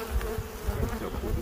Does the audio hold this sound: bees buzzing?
yes